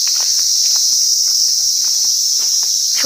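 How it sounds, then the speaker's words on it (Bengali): Crickets trill in a steady, loud, unbroken chorus on a mild evening outdoors in Sittong, Darjeeling, with only faint scattered rustles beneath it and no voices. "ঝিঝি পোকার ডাকগুলো"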